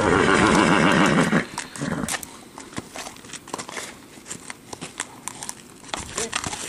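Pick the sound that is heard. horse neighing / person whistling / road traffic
horse neighing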